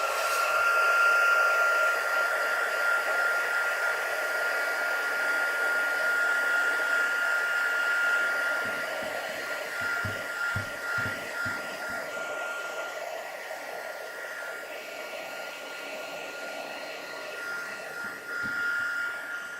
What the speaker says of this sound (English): Now I'm going to trim this off with my heat tool.